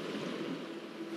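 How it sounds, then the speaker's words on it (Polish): Water poured into a dinosaur enclosure in the Jurassic World video game makes a continuous, even rushing wash, fairly loud and alone throughout. "Więc oczywiście damy sobie dla nich wodę."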